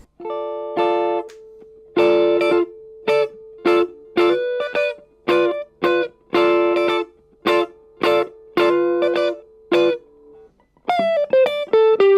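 Slightly overdriven electric guitar playing a sequence of separate plucked notes and chords, each ringing briefly before stopping, close and clear, ending with a quick run of higher notes.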